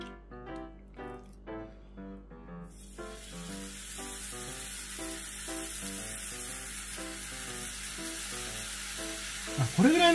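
Kombu-cured beef tongue grilling, a loud continuous sizzle that swells in after a few seconds and holds steady, close by, with faint musical tones running beneath it.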